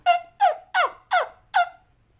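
Five evenly spaced turkey yelps from a wingbone call, close and clear, each a short raspy note with brief pauses between.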